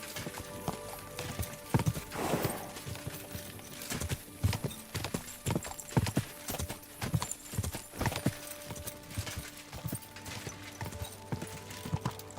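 Steady clip-clop of horse hooves in Kingdom Come: Deliverance II, a brisk rhythmic trot of sharp knocks over a constant background hum, with a brief whinny early on.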